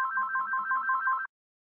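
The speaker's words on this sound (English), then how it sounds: "Try to turn the volume down that phone, okay?" A telephone rings with a bright, warbling electronic double tone, pulsing rapidly for just over a second before cutting off abruptly into silence, heard alone with no voices.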